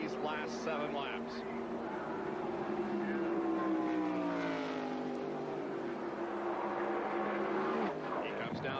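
NASCAR stock cars racing at the 1995 Brickyard 400 at Indianapolis, a steady engine roar with rising and falling pitch as cars pass, heard beneath continuous commentary.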